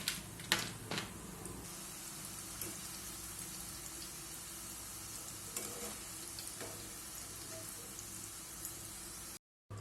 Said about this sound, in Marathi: अशाच पद्धतीने मी सगळी शेव तळून घेते.